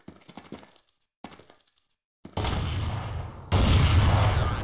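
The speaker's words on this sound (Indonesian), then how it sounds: "Keras sekali tembakan langsung." AWP sniper rifle in a video game firing two loud, sharp shots about a second apart, each leaving a long ringing tail, after a few faint clicks and taps.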